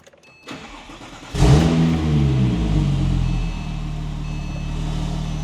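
A Porsche 997 911 Turbo cranks briefly and fires up with a sharp surge, then settles into a loud, steady idle close by, with no voices.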